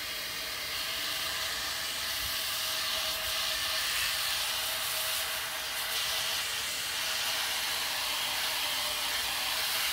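A hose sprays water in a steady, loud hiss that holds at one level from start to finish, with no speech.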